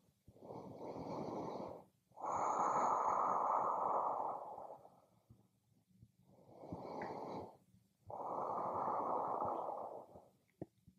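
Slow, deep breathing during an evening yoga session: four long, airy breaths alternate in a steady rhythm with short pauses between them, close and fairly soft, with no talking.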